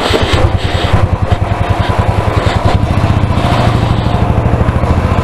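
A Royal Enfield 350 motorcycle engine pulls away at dawn, a loud, close, rhythmic single-cylinder thump that rises slightly in pitch as the bike sets off, with no voices.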